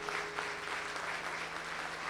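A church congregation applauds during a worship service, a steady, even wash of clapping heard from a distance at low volume, with a faint electrical hum underneath.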